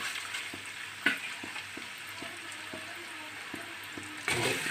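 Fish pieces frying in hot oil for a Kerala fish pickle, a steady close sizzle with scattered pops and a few stirring knocks, a louder burst near the end.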